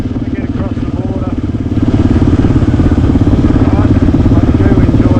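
Motorcycle engine running steadily on rural village roads near the Nepal border, recorded close from a helmet-mounted camera, a continuous mid-pitched engine note that grows louder partway through, with a voice talking over it.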